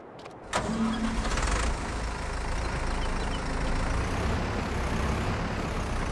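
In Farming Simulator 22, a tractor engine starts with a sharp burst, then settles into a steady mid-pitched rumble while the machine waits to be driven onto a low trailer ramp.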